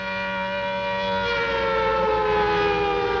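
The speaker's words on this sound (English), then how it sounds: "It's the special effects siren." A movie's special-effects civil defense siren from the film Earth vs. the Spider wails steadily and loudly for a few seconds, one long sustained tone with no one talking.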